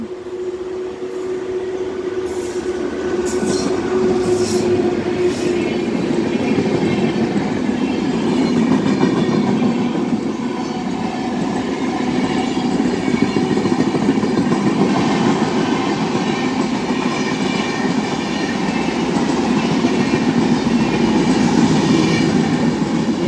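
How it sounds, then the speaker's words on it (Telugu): An MMTS local train on the Lingampalli–Ghatkesar line in Hyderabad passes close by while overtaking, giving a loud, sustained roar with rhythmic clickety-clack of wheels on rails that lasts the whole time, plus a brief squeal. "ఇందాక మనం ఓవర్టేక్ చేసి వచ్చి హ్యాపీ ఫీల్ అయిన ట్రైన్ మనల్ని ఓవర్టేక్ చేసి వెళ్ళిపోయింది"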